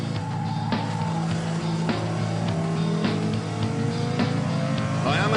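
Porsche Carrera GT V10 roaring hard off the line with heavy wheelspin, a loud, continuous engine howl climbing through the revs and punctuated by quick gear-change dips.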